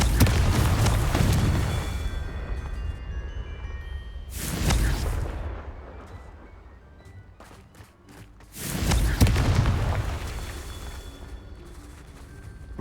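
Repeated magical blasting spell bursts in the Hogwarts Legacy video game, three loud booming explosions spaced several seconds apart, each with a rumbling decay and quieter ambient game sound between them.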